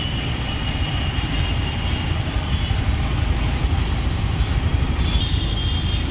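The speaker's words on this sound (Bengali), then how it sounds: "এটা তো একটা খুব বড় সিগন্যাল, তাই জ্যামে আটকে আছি।" Traffic stuck in a jam at a large signal, with a dense, steady rumble of idling car and truck engines close by, continuous and broadband with a faint high whine.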